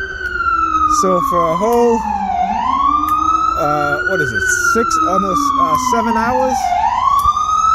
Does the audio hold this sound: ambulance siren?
yes